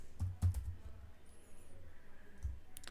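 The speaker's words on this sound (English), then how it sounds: "just I am typing a very random number" Fingers type on a computer keyboard while entering data into a spreadsheet, giving a few faint, scattered key clicks. They are quiet and close, over a soft low background.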